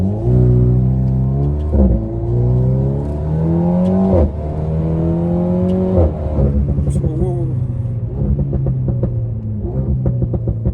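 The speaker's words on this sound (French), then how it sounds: "Vas-y, j'accélère." An Alpine race car engine revs up repeatedly, rising in pitch through several gear shifts, loud and close, then settles into a rough idle.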